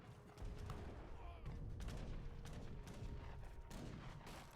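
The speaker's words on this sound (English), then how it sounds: "No, I think was artillery." Artillery cannon fire from heavy cannons in a 2v2 deathmatch strategy game, a dense run of booming shots and crackling impacts rolling on through the whole stretch, loud and close, with voices faint underneath.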